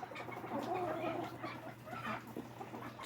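Backyard chickens clucking inside a screened coop, several birds making soft overlapping clucks and short calls close by, steady low background hum underneath.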